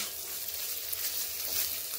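Cauliflower pieces sizzle and crackle as they are stirred and fried in a pan, a steady bright hiss close by with no talking.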